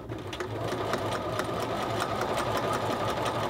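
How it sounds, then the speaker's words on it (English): Sewing machine running steadily as it stitches around the outside edge of a men's shirt collar, a close, continuous mechanical whir with a fast regular stitching beat and no talk. "so we're just going to stitch around that"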